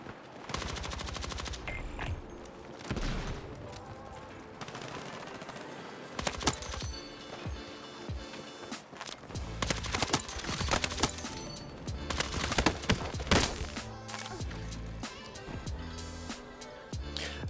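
MP5 submachine gun fired in Battlefield 6 gameplay: dense, loud bursts of rapid automatic fire repeat throughout, with gaps between volleys and other game noise, with no talking.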